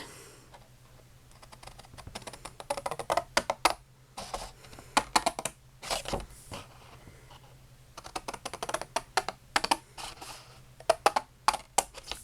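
Paper card for a handmade butterfly card being cut along marked lines, heard as a close series of crisp, irregular snips and clicks with short pauses and no talking.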